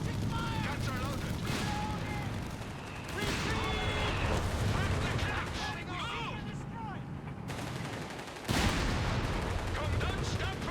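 Battle sounds from the video game Company of Heroes 3: dense crackling gunfire and heavy artillery booms in continuous rolling bursts, mixed with shouted voice lines from soldiers.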